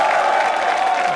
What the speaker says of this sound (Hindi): तालियां इसलिए जोरों से बजाइए उस बच्ची के लिए